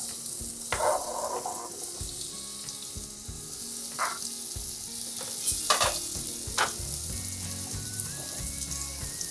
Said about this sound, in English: The oil is quite hot and I'm going to transfer sweet potato into the pan, and we're going to cook it until it turns golden brown.